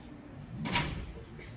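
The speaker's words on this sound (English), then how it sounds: "Door is automatically closing." The door of a Savaria V-1504 vertical platform wheelchair lift closes automatically with a brief, fairly loud clunk and rattle, then a short settling noise, heard close up in a quiet space.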